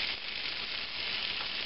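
Potatoes frying in a pan with bacon and onions give a steady, close, bright sizzle that crackles evenly throughout with no talking.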